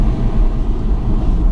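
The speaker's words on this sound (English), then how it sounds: "That V8 just flapping away back there, sounds like a Spitfire" Aston Martin AMR V8 engine rumbling at close range from inside the cabin, a deep, loud, steady low-frequency drone over a short stretch with no talk.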